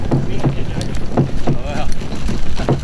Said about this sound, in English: I'm one hand paddling, just kind of creeping along